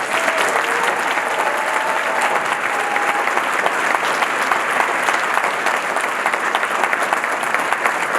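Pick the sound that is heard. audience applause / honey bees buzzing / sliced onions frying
audience applause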